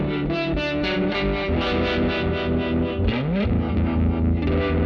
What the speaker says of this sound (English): Let's just get some harmonic tremolo.